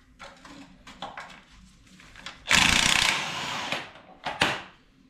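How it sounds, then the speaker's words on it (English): An impact gun working a badly rusted bolt on the rear subframe of a BMW E36 328i coupe, short mechanical bursts followed by one loud sustained rattling hammer run and a couple of quick final blasts, close up. "But let's try it with the gun, see if we can get it off"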